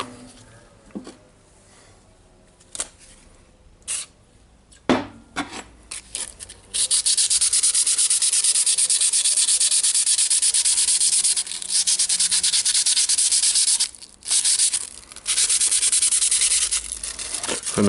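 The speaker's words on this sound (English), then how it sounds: "Of course, we need to sand it a little bit more." Sanding the plastic housing of a Makita BHR240 18V hammer drill: a few scattered scrapes and knocks, then a loud continuous raspy hiss of abrasive rubbing that runs steadily for about ten seconds with brief pauses, close and alone.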